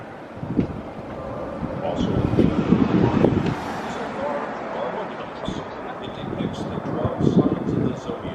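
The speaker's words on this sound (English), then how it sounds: "As you can see from my hair, it is a bit windy." Strong wind gusting across a microphone at the Grand Canyon rim near Hoover Dam, a steady rumbling buffet that swells and eases in gusts throughout.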